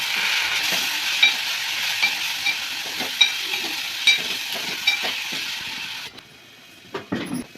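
Chicken fries in a hot pan with green chillies, curry leaves, ginger-garlic paste and turmeric, giving a bright steady sizzle punctuated by periodic stirring clicks before the hiss drops away near the end.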